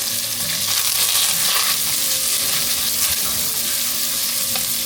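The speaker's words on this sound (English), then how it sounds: "we're gonna brown up the bacon." Fatty pasture-raised bacon bits browning in a hot pan for a zuppa toscana, a loud, steady crackling sizzle close by with occasional stirring scrapes, no voices.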